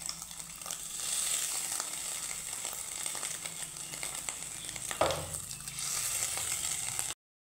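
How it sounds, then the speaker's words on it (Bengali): A batch of fish roe frying in a pan makes a soft, continuous crackling hiss, fairly quiet and close, with a brief bump of handling noise partway through before it cuts off. "তো এখানে বাকি এক ব্যাচ আমি এইভাবেই ভেজে নিব"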